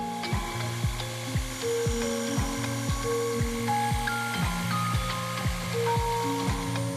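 Excess steel is cut away around the outline of a knife billet in a blademaker's shop, steady rhythmic strokes repeating roughly every second with a ringing metallic edge, close and alone.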